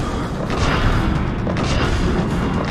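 Explosive ammunition blasts boom continuously in a Mass Effect 3 shooting gallery, a dense, loud, rumbling barrage with no pauses.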